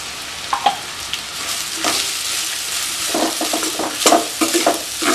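Cooked rice stirred with fried onions in a hot pan for Kerala-style onion rice, a steady sizzle broken by scattered scraping strokes of the spoon, busier toward the end, with no voices.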